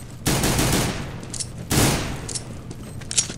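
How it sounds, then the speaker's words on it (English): Two loud bursts of gunfire from Counter-Strike: Global Offensive, each a dense rattling volley lasting over a second, separated by a short gap, followed by fainter scattered shots and clicks. "I was shooting burst fire for a while."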